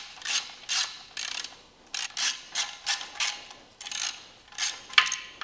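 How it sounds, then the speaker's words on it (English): A ratchet clicks close up in repeated quick bursts as 10mm bolts are backed out of an engine's oil feed line, the rhythmic pawl ticking clear and alone. "we're going to go ahead and remove this oil feed line. It's just two 10mm bolts"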